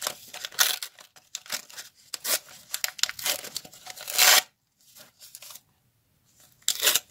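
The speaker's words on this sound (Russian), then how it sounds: "эти пакетики рвутся из-за того, что они тоненькие" Thin paper Kinder surprise packet being torn open by hand, a run of close crinkling rips and rustles in bursts with short quiet gaps between them.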